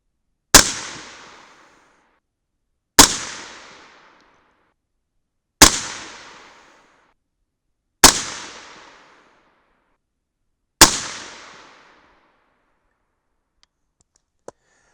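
A short-barreled rifle fires light supersonic Hodgdon CFE BLK loads with 110gr V-MAX or 125gr bullets: five sharp, loud single shots spaced evenly a few seconds apart, each with a quick ringing decay into silence.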